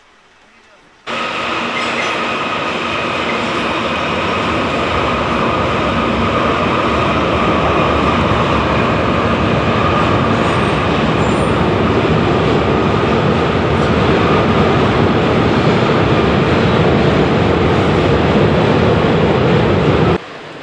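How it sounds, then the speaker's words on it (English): A Norfolk Southern freight train rumbles across the Scioto River bridge in Columbus steadily and loudly, a continuous roar of rolling cars with faint wheel clatter that holds at the same level throughout. "we saw an NS freight train crossing the Scioto River"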